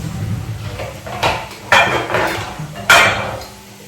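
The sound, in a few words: dish being handled for transferring bolognese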